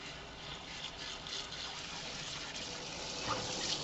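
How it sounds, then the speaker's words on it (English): A few seconds of a running tap pouring over a hand to dissolve about a teaspoon of liquid soap, a continuous close gush of water with light splashing and no voices. "dissolve that into running water"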